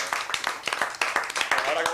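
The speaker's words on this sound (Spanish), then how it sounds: "Bueno, un aplauso," An audience claps through a short burst of applause at a talk, with irregular, close claps over about two seconds.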